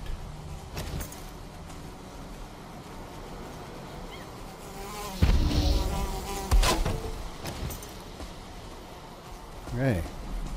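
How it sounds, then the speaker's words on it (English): A Valheim mosquito's thin whining buzz rises and fades among ongoing game noise and thuds, loudest near the middle and again near the end. A player speaks over it. "Stupid mosquito."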